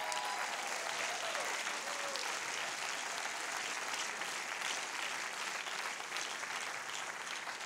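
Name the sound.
audience applause at a festival opening ceremony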